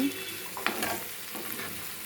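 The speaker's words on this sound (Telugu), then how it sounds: "చక్కగా దీన్ని ఫ్రై కానివ్వండి. కమ్మటి వాసన వస్తుంది." Garlic frying in a pan for an eggplant garlic stir-fry, a steady close sizzle with a brief stirring scrape partway through, no voices.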